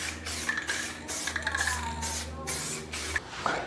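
Spray paint hisses from an aerosol can in repeated bursts as a second coat goes onto a car, close and moderately loud, with brief gaps and a low background hum between passes.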